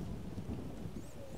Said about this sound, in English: What is this? It's really raining.